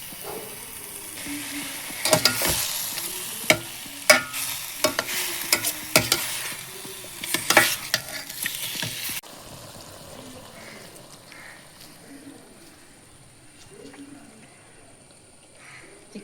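Chicken pieces fry and get stirred in a pan for a toddy-shop style chicken roast, with a steady sizzle and sharp scraping clinks of the spoon for about nine seconds before settling into a quieter, softer frying hiss.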